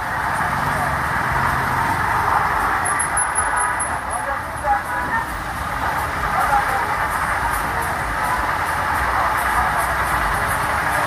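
Dense, loud roar of street traffic in Kenya, engines rumbling and passing continuously with a steady background wash of noise.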